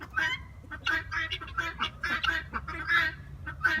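Quail in a backyard pen with hay during a cold snap, giving a series of short, nasal, honking calls close by in quick irregular bursts, with no talk over them.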